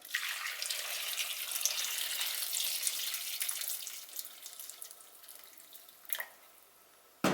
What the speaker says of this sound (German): Jetzt tun wir lauwarmes Wasser, also darf nicht so warm sein.